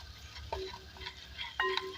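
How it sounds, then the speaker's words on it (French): A spoon stirring green mango chutney with curry and spices in a pan, giving two short scraping strokes with a faint background sizzle, close and quiet, with no talking. "Je mélange"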